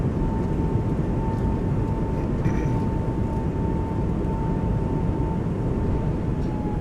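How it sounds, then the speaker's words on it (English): Airbus A220 touching down in a flight simulator game with thrust reversers deployed, a dense, steady roar of jet engine and airflow with a thin constant tone, loud and continuous. "reversers, idle, kick off the auto braking, move over to manual brake"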